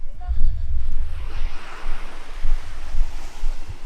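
Sea waves break and wash onto a sandy beach in the dark, a steady rushing surge with heavier low thumps and wind buffeting the microphone.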